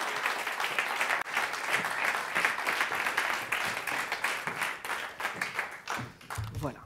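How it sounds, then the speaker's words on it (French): A conference audience applauds to welcome a speaker to the stage: dense, sustained clapping with scattered voices that holds steady for several seconds before thinning out near the end. "Je vous propose, sous un tonnerre d'applaudissements, d'accueillir Corinne Hardy"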